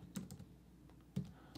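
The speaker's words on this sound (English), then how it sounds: "and I'm gonna type in here," A computer keyboard gives two short bursts of a few close, soft keystrokes separated by a brief pause, with no voices.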